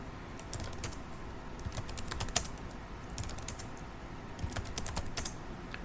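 Close computer keyboard typing in quick bursts of clicking keystrokes with short pauses between them, quiet overall and with no voices.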